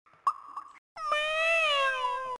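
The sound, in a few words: cat meowing in the Fireman Sam PC video game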